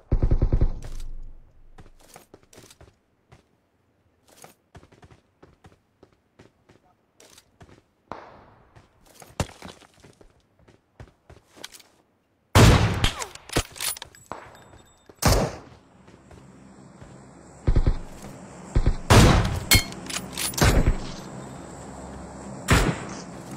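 Gunfire in the mobile battle royale PUBG Mobile: scattered faint shots early, then a loud burst of rapid, sharp cracks with several heavy close reports, irregular and punchy.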